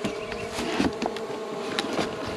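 Agitated honey bees swarm around a shaken box, filling the air with a dense, loud, continuous buzzing that stays close and steady throughout, with no talking.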